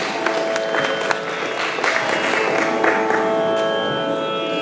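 An audience claps warmly after children finish a classical singing performance at a church, a sustained round of applause with faint musical tones lingering beneath.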